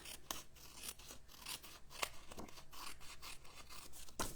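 Scissors snipping around the edge of a card envelope, a quick series of close, crisp cuts and rasping paper sounds repeating at a steady, irregular rhythm with no talking.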